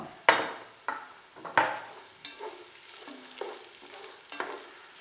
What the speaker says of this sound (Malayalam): ഇപ്പോൾ ക്യാരറ്റ് നല്ലോണം നമുക്ക് വഴറ്റിയെടുക്കാം.